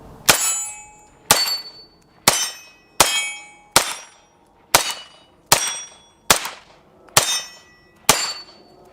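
A Beretta M9A3 9mm handgun fires ten loud, sharp shots at a steady pace of about one per second, each crack followed by a short ringing decay, with no talking.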